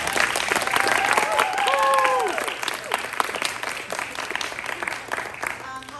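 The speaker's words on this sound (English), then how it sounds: "So let's give Karina a round of applause." Audience at a playwriting showcase applauding a playwright, a full dense round of clapping with some cheering and whoops, steady throughout and fading slightly toward the end.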